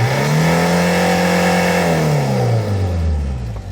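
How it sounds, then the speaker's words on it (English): Hyundai Porter double-cab diesel truck with a manual transmission, 2000 model year, revving up smoothly and quickly: a loud, close engine note rising and then falling through one continuous run, with no talking. "let's try to accelerate and see the RPMs, the RPM movement"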